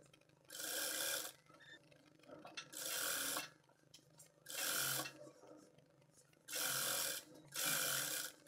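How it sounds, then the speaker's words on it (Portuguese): A straight-stitch sewing machine runs along a dress hem in five short, even bursts of whirring stitching, separated by brief pauses, fairly close and alone. "vou rebater uma costura lá na máquina reta nervurinha pra formar essa bainha do vestido"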